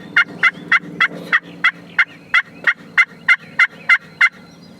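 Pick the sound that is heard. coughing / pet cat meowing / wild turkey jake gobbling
wild turkey jake gobbling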